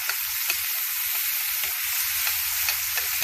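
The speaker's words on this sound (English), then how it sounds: "Real hot pan. Garlic, our onions, our scallops in there." Scallops sear with garlic and onions in a very hot pan, giving a constant, close, bright sizzle with small pops and crackles throughout and no talking.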